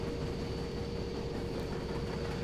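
A train hauling a disabled Acela trainset on the North Jersey Coast Line in Train Simulator 2020, a steady low rumble of engine and rolling wheels with a faint high whine, continuous and unbroken, with no talking.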